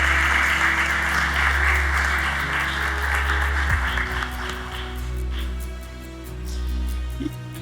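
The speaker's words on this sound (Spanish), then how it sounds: "para quien pido un aplauso de pie" Standing applause at an Academia Nacional de Historia induction ceremony in Ecuador, honoring a former vice president; sustained clapping from a full hall that thins and fades over several seconds.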